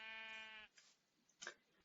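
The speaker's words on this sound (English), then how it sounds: "listen for the bleating of the sheeps, which will give you an idea on where they are" A sheep in the Web3 Minecraft-style game Hungry World lets out a single buzzy, tonal bleat of about half a second, followed by faint clicks and a short blip in an otherwise quiet scene.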